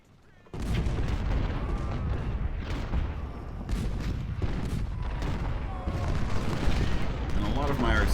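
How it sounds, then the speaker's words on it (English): Cannon fire from Civil War artillery, including Napoleon guns, in Ultimate General: Civil War at Stones River, a steady barrage of booms and crackling shots, loud and continuous with a voice talking over it. "all of my artillery finally starts unloading on him"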